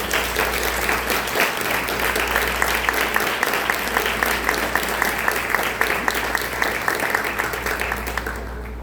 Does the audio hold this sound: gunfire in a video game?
no